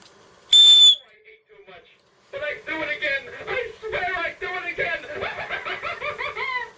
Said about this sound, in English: I have a titanium whistle.